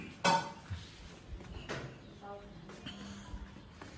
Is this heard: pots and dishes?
yes